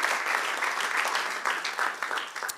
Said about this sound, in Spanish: Aleluya, dale otro aplauso